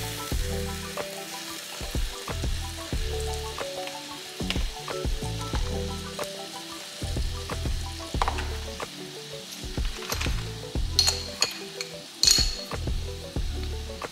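Heavy cream goes into a sizzling pan for jerk chicken alfredo. It brings a constant close frying hiss, with spoon stirs and small utensil clinks breaking in now and then, and no one talking.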